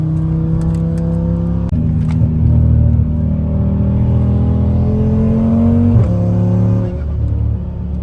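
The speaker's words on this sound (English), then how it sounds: "We ready to run this thing on the dyno?" A fully built Audi RS3 fitted with a TTE855 turbo and running 93 octane fuel drones steadily on a dyno, its loud engine tone climbing through a long pull with a brief dip near six seconds before surging again.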